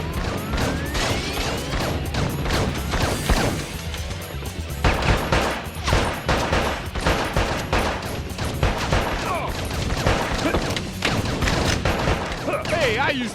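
Dense video game gunfire from a shoot 'em up: rapid bursts of shots, crashes and booms pile up continuously and loudly, with voices talking over the barrage.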